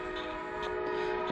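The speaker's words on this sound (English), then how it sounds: "Sorry about the train." A train rumbles past with a sustained, steady horn blast holding strong tones throughout, loud and continuous with no voices.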